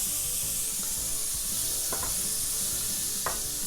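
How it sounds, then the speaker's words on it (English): Sliced onion sizzles steadily in melted butter in a pan, a constant frying hiss with a few soft stirring scrapes, close and alone without talk. "I'm just going to fry up the onions until they start getting a bit of colour and going nice and caramelly"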